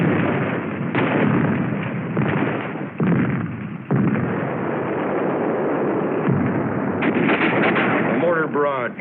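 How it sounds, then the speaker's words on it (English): Mortar barrage and machine gun fire on Iwo Jima in 1945 wartime film footage, dense loud gunfire and blasts with rapid bursts, muffled and band-limited, and a voice speaking near the end. "A mortar barrage searches out hidden machine gun nests."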